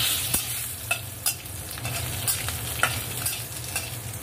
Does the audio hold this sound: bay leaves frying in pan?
yes